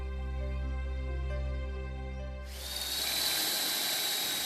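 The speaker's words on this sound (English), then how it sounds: "drilling a test hole" A power drill bores a test hole into a house's cavity wall to check the cavity width for insulation, starting abruptly halfway through as a loud, steady high-pitched whine over a constant low hum.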